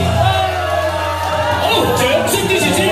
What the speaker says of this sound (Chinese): 掌声支持先，欢呼声